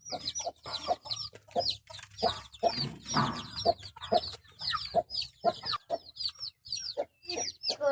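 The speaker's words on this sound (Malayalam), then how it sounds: "ഇതെന്റെ വീട്ടിലെ കോഴി അട വെച്ച് വിരിയിപ്പിച്ച കോഴിക്കുഞ്ഞുങ്ങളാണ്" A hen clucks in a steady rhythm close by while her newly hatched chicks cheep continuously in high, rapid peeps.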